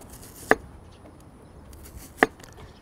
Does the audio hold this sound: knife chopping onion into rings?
yes